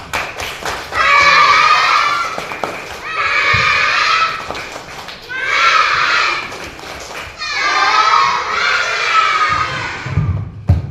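Primary schoolchildren in a classroom cheer loudly in four separate bursts of high, shouting voices, with some thumps and clapping, and short quiet pauses between the bursts.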